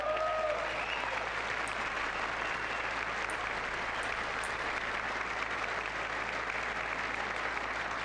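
An audience in the chamber of Congress applauds during the State of the Union. The sound is a steady, dense wash of clapping that holds evenly throughout at moderate level, with no pauses and no talk.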